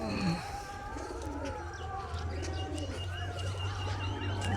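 Racing pigeons on their first day of flying calling outdoors, with low steady cooing running throughout and scattered small chirps and tweets over a constant background, no talk.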